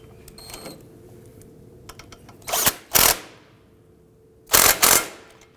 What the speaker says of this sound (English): let's go ahead and snug down this bolt